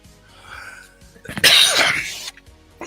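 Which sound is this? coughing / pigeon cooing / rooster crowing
coughing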